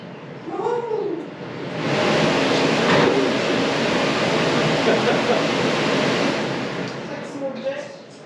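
Steady, loud whooshing roar from the extractor fan of an AGA Masterchef Deluxe cooker hood running in a kitchen, rising in after a moment and holding constant, with brief faint voices at the start and end.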